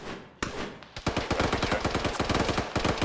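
Rapid automatic gunfire in the video game Arma rattles in dense, sharp bursts after a lone early shot, loud and close with a steady, driving rhythm.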